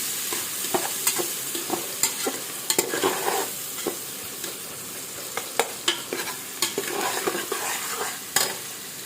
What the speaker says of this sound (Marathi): कांदा सोनेरी रंगापर्यंत परतवायचं